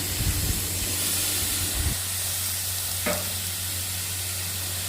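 Washed chicken is added to a pan of sautéed coriander, chilli, turmeric, garam masala and chicken masala and stirred, giving a steady loud sizzle and hiss with a brief stirring scrape.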